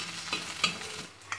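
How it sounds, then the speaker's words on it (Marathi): An eggplant dish with onion greens and fenugreek is stirred in a pan, giving a soft continuous sizzle with a few brief scraping strokes, close and moderately quiet. "आता याला व्यवस्थित मिक्स करून घ्यायचे आहे।"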